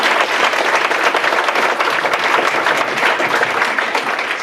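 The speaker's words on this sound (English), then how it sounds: "So let's give them a round of applause." Loud, dense applause from a crowd at a senior living community gathering, a continuous wash of clapping for the marketing team lasting throughout.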